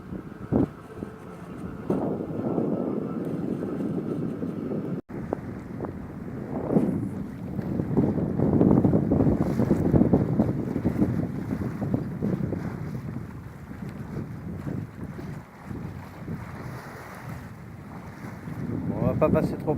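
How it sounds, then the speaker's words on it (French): Steady wind buffeting a sailboat off Île d'Yeu in about 12 to 13 knots, with water rushing and waves washing along the hull, loud and continuous with rumbling gusts throughout. "il y a quand même de l'air, il doit y avoir 12-13 nœuds de vent."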